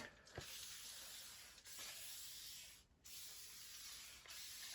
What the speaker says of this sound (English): Give that another spray.